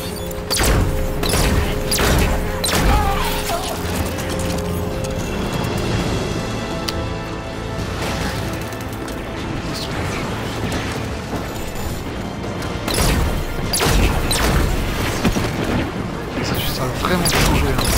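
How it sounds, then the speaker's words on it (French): Sniper rifle gunfire in the Halo 5 video game, heard as repeated sharp shots and booms over a busy, dense game mix of effects and music. "Un fusil snipe."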